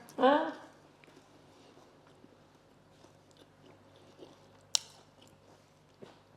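Close, quiet chewing of crunchy crust on a salty-crusted country-style boule, with a brief louder crunch at the start and soft bites and mouth sounds after.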